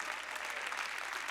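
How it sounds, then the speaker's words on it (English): Church congregation applauding steadily, a dense continuous wash of many hands clapping at even loudness throughout, with no voices rising above it. "keep on clapping"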